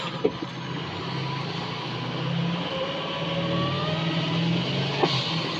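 A car accelerates with a steady mid-range engine drone that rises gradually in pitch and stays loud and close throughout, heard from inside the vehicle.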